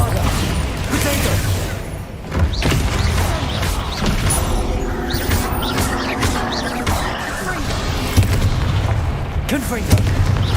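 Bombarda spell explosions in Hogwarts Legacy crack and boom repeatedly amid clattering battle noise, with sharp bursts spread across the stretch and a voice speaking over the fight.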